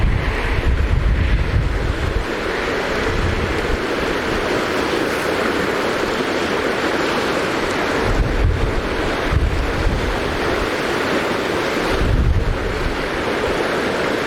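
Waves wash and surge continuously at Hvide Sande, Denmark, in the evening, with heavy wind buffeting the microphone and low rumbles swelling every few seconds; no voices.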